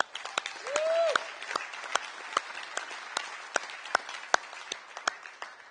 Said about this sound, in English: So please, round of applause for him.